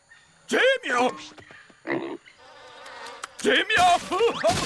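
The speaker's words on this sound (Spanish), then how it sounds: "¡Vamos, moscas, fuera!" Cartoon flies buzz in short, loud bursts, mixed in with animated character voices and other comic sound effects in a jungle setting.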